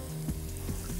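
Garlic fries in a pan with a steady, soft sizzle, broken by a couple of brief clicks of stirring over about a second.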